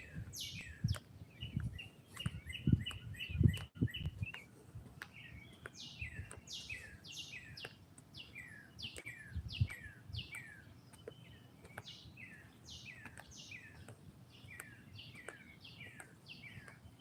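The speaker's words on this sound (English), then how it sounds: "Yeah, you hear those birds?" Birds sing repeated high, bright chirping phrases throughout, fairly faint, over a low rumbling background with occasional bumps.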